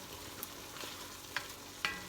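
Shrimp, crab and corn chowder sizzles softly in a pot while a spoon stirs it, with a few light scrapes and taps against the pot.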